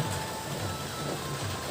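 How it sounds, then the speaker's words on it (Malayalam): Heavy rain falling outdoors, a steady dense hiss and patter with no break, moderately loud and alone. "അപ്പോൾ ഗൈസ് പുറത്ത് നല്ല മഴയുണ്ട്"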